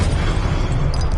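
A Confringo blasting spell in Hogwarts Legacy erupts as a dense, rumbling explosion that fills the whole moment, loud and close with no pause or talk.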